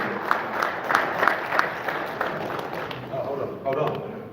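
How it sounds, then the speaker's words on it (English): Audience clapping at a boxing press conference in Texas, a moderate crowd of hands with a few sharper claps early on, tapering over a few seconds with murmuring and voices underneath. "I think we should have a round of applause for the newly turned pro, Mark Castro."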